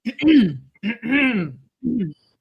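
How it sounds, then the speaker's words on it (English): Three short throaty bursts of a person clearing their throat, rough and voiced, close up, with brief gaps of silence between them. "Okay, I'm clearing my throat."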